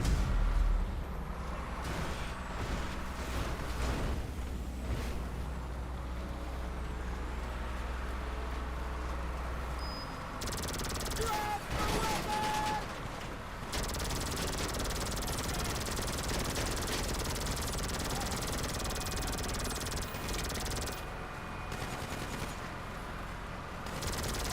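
Dense, continuous rattle of machine-gun fire from a vehicle-mounted gun in GTA Online, loud and sustained, mixed with engine rumble and harsh bursts that cut in and out across the scene.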